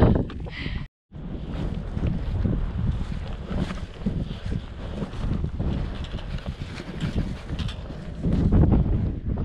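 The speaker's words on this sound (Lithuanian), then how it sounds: "Labai vėjauta ir kiaura pat iš tikrųjų." Strong wind buffets the microphone on a mountain summit, a steady loud roar with gusting swells that runs throughout, broken only by a brief dropout near the start.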